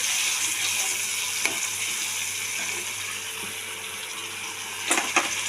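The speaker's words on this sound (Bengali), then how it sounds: "এবার দিয়ে দেবো চালটা। মশলার সাথে কষতে থাকুক চাল।" Rice frying with spices in a pan for a potato and pointed gourd dish gives a steady close sizzle and crackle, with a few scraping knocks of stirring near the end.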